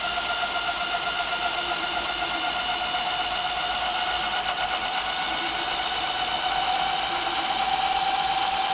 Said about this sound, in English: And I'm giving some throttle little by little.